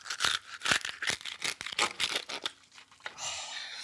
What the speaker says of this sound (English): So I'm going to cut straight down the center and just have a listen to this.